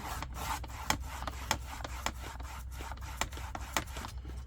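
Rhythmic rasping strokes as journal notepad pages are trimmed to length, a dozen or so quick, close scraping cuts repeating at a steady pace, fairly quiet and without talking.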